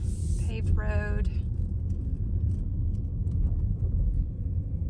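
A sedan rolls along a paved neighborhood road with a steady low interior rumble, and a brief voice is heard near the start.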